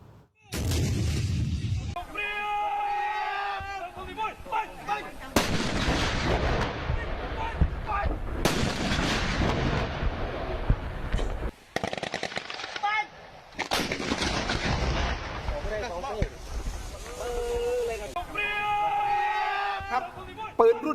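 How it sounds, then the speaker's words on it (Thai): A D-30 122 mm howitzer fires during a heavy live-fire military drill, with several loud, sharp blasts ringing out and rolling echoes between them. Voices can be heard under the shots. "ซ้อมใหญ่ก็คือยิงปืนใหญ่ฮาวิตเซอร์ D30 ขนาด 122 มิลลิเมตร"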